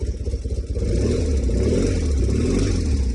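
BMW R90S flat-twin motorcycle engine idling close by on choke, starting with a lumpy pulsing beat before settling into a steady, loud, fast-running drone.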